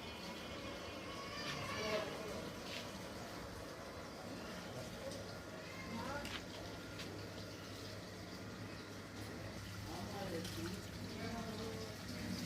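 Running tap water rinsing fresh coriander leaves in a kitchen, a continuous gushing splash with faint clatter, while a person talks over it.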